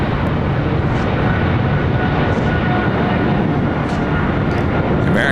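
An airliner roars down the runway on takeoff at LAX, a loud, steady broadband engine rumble holding constant throughout, close and unbroken.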